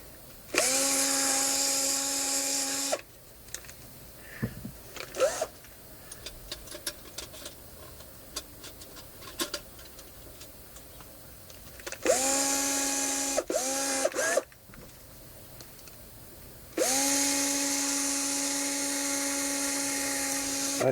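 A power drill whines in three long, steady bursts with short stuttering pulses between them, close and fairly loud, separated by quieter stretches of clicks and handling noise.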